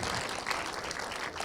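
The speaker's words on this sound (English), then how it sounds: "let's give them a big round of applause" Audience applause for museum staff and volunteers, a dense, steady wash of clapping heard close and continuous through the whole short moment, with no talk over it.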